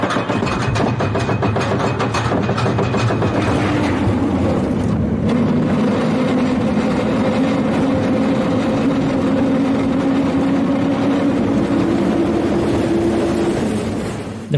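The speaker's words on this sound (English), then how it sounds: "I'm at an amusement park in North Korea and I'm gonna go on a roller coaster now." Roller coaster ride at an amusement park in North Korea: a loud, steady rumbling roar of wheels on track and wind throughout, with a long droning whine rising and holding in the middle, no voices.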